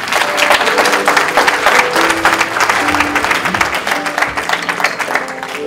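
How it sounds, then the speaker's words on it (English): Wedding guests at a marriage ceremony burst into loud, sustained applause, a thick, continuous roar of many hands clapping close by, with faint voices and some background tones mixed in. "Let's give him a round of applause."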